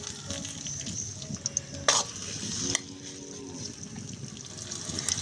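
Onions and dried chillies frying in mustard oil in a pan, a close continuous sizzle broken by a couple of sharp stirring clatters, with little talk.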